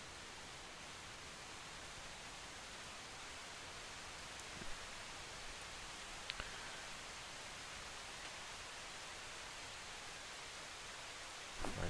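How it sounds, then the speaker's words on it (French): A heavy rain shower in the video game Project Zomboid, heard as a steady, even hiss of rainfall filling the whole stretch, with a few faint clicks over it and no speech. "On a droit à une bonne averse là."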